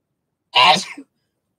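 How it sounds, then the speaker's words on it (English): One sharp, explosive sneeze, close and loud, over in under a second, with quiet before and after. "There's a sneeze."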